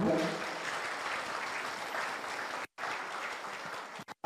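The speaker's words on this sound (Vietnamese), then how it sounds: "Xin đại chúng cho một tràng pháo tay thật lớn." Sustained applause from a gathering at a memorial ceremony for a Buddhist elder monk at a monastery in California, dense steady clapping that breaks off abruptly near the end.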